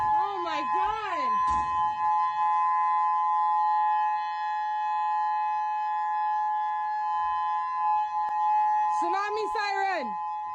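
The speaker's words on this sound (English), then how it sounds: "So tsunami sirens coming in" A tsunami warning siren in Maui wails in a long, steady tone across the whole stretch. Voices talk excitedly over it near the start and the end.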